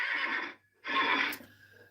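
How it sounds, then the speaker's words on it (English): Horses whinny at a thoroughbred racetrack, two drawn-out neighs separated by a brief pause, clear and fairly close with a quiet tone behind. "There's the horses."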